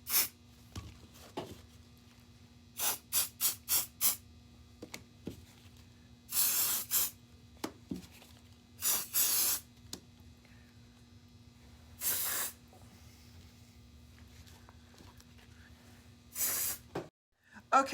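Aerosol spray hisses in repeated bursts over epoxy resin molds for Christmas ornament stars and snowflakes, with short quick spurts early on, then longer sprays spaced apart, all close and loud over a steady low hum.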